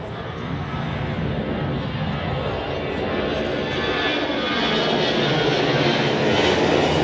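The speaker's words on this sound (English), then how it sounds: "So that was the small A320" An Airbus A320 at Zurich Airport on the runway produces a loud, steady broadband engine roar that builds slightly over several seconds, with faint crowd or voice sounds underneath.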